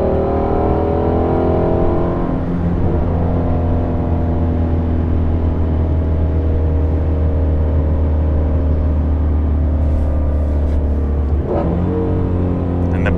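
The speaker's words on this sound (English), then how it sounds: "That's the really crazy thing about this V8, is it just keeps pulling and pulling and pulling." A Ford Shelby GT350 V8 pulls hard under sustained acceleration, its loud engine drone climbing steadily in pitch, with a brief dip near the end as the tone resets and climbs again.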